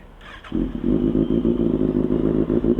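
A Kawasaki ZX-6R motorcycle engine starts up and idles steadily to warm up on a cool morning, a loud, close, even burbling throb with a light mechanical clatter and no talking.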